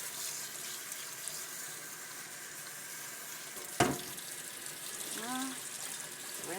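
Tap water runs steadily into a kitchen sink as rice is rinsed, a soft continuous splash with one sharp knock partway through and a faint voice nearby.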